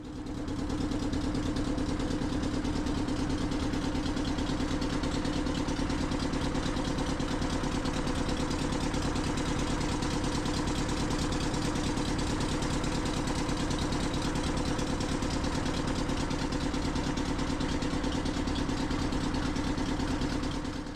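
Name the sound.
motorboat engine running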